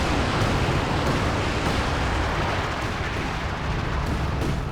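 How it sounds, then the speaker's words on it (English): A Nebelwerfer rocket artillery barrage in Company of Heroes 2 rumbles as a dense, continuous wash of loud booming impacts and roar, steady throughout with no gaps. "the Werfer barrage coming in"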